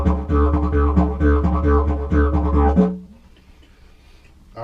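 A buzzing drone instrument plays with quick, regular rhythmic articulations over a low sustained tone for about three seconds, then stops, leaving near silence.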